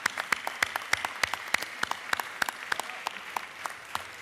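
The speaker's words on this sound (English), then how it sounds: "if everybody could just give them a round of applause." Audience applause in the Georgia House chamber, a moderate round of scattered individual claps with distinct sharp hand strikes, fairly close and steady for several seconds.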